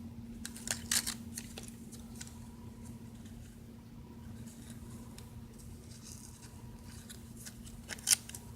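Small scissors snip an empty tea bag down to size for a nail repair, a few quiet close cuts spread across otherwise still moments, the last snip sharper and louder.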